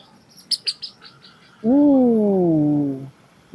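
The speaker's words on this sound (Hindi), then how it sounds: "ये तो बड़ी सुंदर चिड़िया थी." A small wild bird gives a quick run of high chirps, then a longer, lower drawn-out call that rises and bends for over a second. It is fairly close and clear over a quiet background, with no talking.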